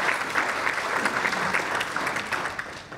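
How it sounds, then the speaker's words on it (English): An audience at a university scholarship presentation claps steadily and evenly throughout, a dense, moderately loud round of applause with no talk over it. "we need to give these folks a round of applause as well"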